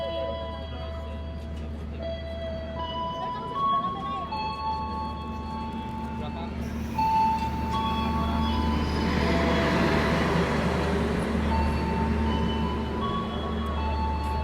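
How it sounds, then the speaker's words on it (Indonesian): Argo Wilis passenger train from Surabaya Gubeng toward Bandung passing at Cipende station, a rumbling roll with tonal whines and rising wheel noise as it goes by close, heard with a low steady hum and some talk. "Di sini bertemu dengan kereta api Argo Wilis dari arah Surabaya Gubeng tujuan ke"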